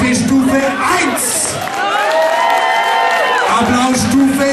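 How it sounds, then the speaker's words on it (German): A carnival crowd at a majorette dance show erupts in continuous applause, whoops and cheering, loud and sustained throughout, with shouting voices and sung or yelled tones riding over the clapping. "Applaus bitte Stufe 1."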